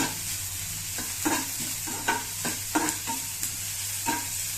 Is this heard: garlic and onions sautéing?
yes